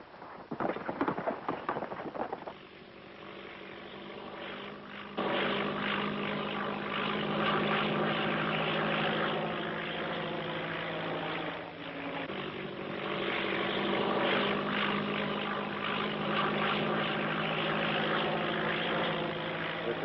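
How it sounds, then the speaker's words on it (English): Propeller airplane from a 1936 film flying overhead, a continuous loud droning engine roar that swells and holds steady, with slight fluctuations, and no talk. "where's this plane coming from? From Los Angeles. She's due over Rocket Point in"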